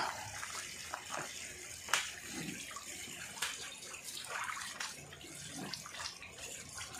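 Water running from a tap while boiled beef for pares is rinsed in a kitchen, a faint steady stream with soft splashes and clatters, fairly distant.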